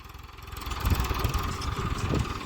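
A tractor idles steadily after starting, a low rumbling mechanical chug that holds for the whole stretch and builds slightly, with no voices.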